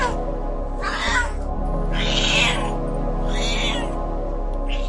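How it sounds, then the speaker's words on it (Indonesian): A cat cries out in several drawn-out, wavering meows over a steady low background hum. "terdengar suara tangisan kucing yang biasa ku dengar."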